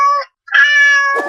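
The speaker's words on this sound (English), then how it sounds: "A cat." A cat gives two loud, close meows, a short one followed after a brief pause by a longer drawn-out call, ending in a rough burst of noise.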